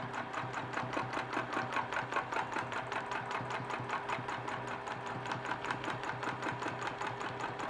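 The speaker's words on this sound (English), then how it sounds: "so we're going to stitch down." A sewing machine hums and chatters steadily during free motion quilting, its needle pulsing in a fast, even rhythm close by for the whole stretch without pause.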